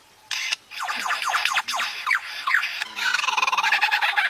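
An Australian lyrebird calls up close, with a rapid run of varied whistles, sweeping chirps and harsh squawk-like notes in quick succession, followed by a rattling trilled phrase.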